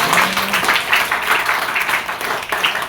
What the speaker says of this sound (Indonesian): Ada yang berani tepuk tangan ya?